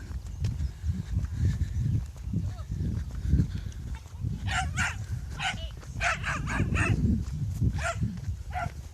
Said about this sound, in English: The lady's making as much noise as the dog there.